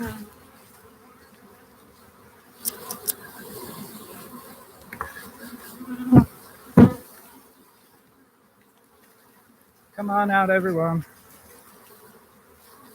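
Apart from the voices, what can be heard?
swarm of honeybees buzzing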